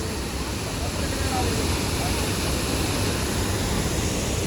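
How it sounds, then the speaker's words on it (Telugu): Athirappilly waterfalls in Kerala roar as a steady, dense wash of broadband noise that stays loud and unbroken throughout, with no distinct voices standing out above it. "అత్తిరేపల్లి వాటర్ ఫాల్స్"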